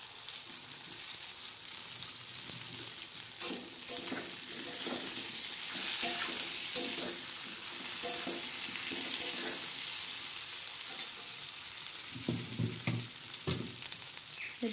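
A fish head fries in hot oil in a pan for a mixed vegetable dish, giving a steady, close sizzle with scraping stir strokes and occasional louder crackles throughout, without speech.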